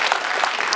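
Applause at a press screening of the film Sabaha fills a brief moment, a steady wash of many hands clapping together at moderate volume.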